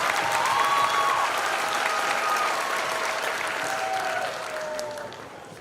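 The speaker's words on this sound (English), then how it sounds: "Let's give him another round of applause." An audience at a Youth ChalleNGe Academy graduation ceremony applauding in a hall, a dense sustained clapping that fades slightly toward the end, with faint voices underneath.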